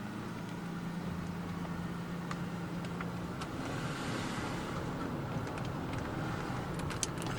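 Mercedes-Benz 600SEL with the M120 V12 engine pulling away and accelerating, a steady broadband engine and road noise heard from inside the car, fairly constant in level with no voices.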